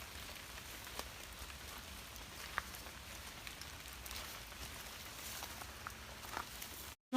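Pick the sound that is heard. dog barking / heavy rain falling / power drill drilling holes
heavy rain falling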